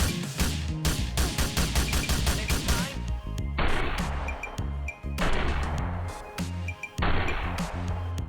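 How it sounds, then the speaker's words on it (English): Rapid assault rifle fire from the modded video game GTA 4, loud and close, a fast rattling burst followed by several shorter sustained volleys with sharp clanks between them. "now allowing for the assault rifle to immediately fire upon triggering the action"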